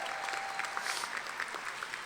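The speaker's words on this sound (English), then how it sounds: "give her a round of applause" Steady applause from a crowd at a medical college hooding ceremony honors a graduate, an even wash of many hands clapping at a moderate distance, with no one speaking over it.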